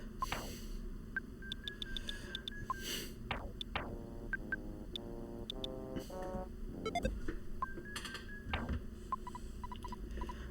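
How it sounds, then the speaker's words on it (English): Flaming dog enemy in a video game making chiptune-style sounds, with repeated bright pings, rapid clanking and whirring tone sweeps, and short beeps over a steady low background, all fairly faint. "It's a flaming dog that goes ping, clankety, whir, beep, beep."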